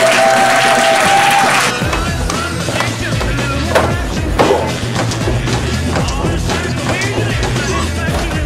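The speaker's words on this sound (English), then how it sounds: "why don't we hear a big round of applause for Grandmaster Jim Brassard!" A martial arts event audience gives a round of applause for a grandmaster, a dense, loud wash of clapping that fills the whole stretch, with a few sharper claps and thuds rising above the steady crowd noise.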